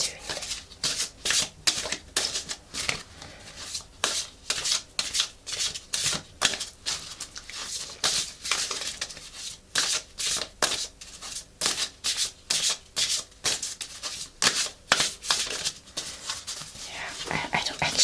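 Tarot cards are shuffled over and over in a brisk, regular riffling rhythm, close and crisp, with faint whispering now and then between passes.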